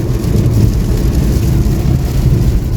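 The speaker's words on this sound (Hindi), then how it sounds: "झमाझम बारिश शुरू" Heavy monsoon rain pours down steadily during a road trip, a dense continuous roar with low rumbling, loud and unbroken throughout.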